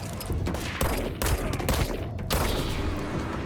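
Rapid bursts of gunfire from shooting enemies in the video game Control, loud and dense, with broadband blasts repeating in quick volleys throughout.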